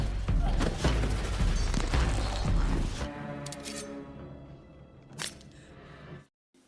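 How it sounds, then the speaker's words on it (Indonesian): Gunshots in a mafia film scene, a loud flurry of shots and impacts filling the first three seconds, then a quieter stretch broken by one more sharp bang before the sound drops away. "Ia menembak salah satu penjaga di sana"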